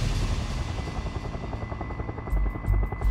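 Rescue helicopter in the backcountry, its rotor chopping loudly and continuously at close range with a steady engine whine, no voices audible.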